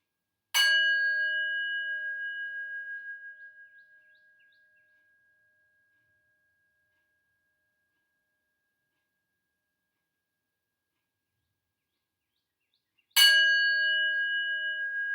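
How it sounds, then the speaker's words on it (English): A meditation bell sounds twice during a yoga session, each strike a bright, clear ring that lingers and slowly fades into long silence before the second strike. "allow the sound of the bell to permeate all the cells in your body"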